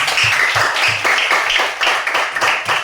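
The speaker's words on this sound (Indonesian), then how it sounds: "Tepuk tangan semuanya." Classroom of students clapping for a student group, a near, loud patter of many hands with a roughly rhythmic beat lasting a few seconds.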